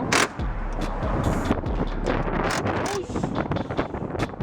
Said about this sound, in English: It's a little windy out here in Philly.